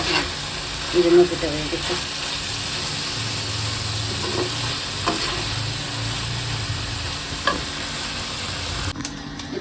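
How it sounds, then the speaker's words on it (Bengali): Eggs fry in a pan with a steady broadband sizzle running throughout, a few clinks and scrapes of a utensil, and brief speech near the start. "ওই যে ডিম ভেজে নিচ্ছি"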